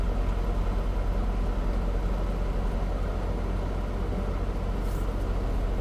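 A semi truck pulls forward at the Tolleson drop yard after dropping its trailer, with a steady, close, heavy diesel rumble and no talking.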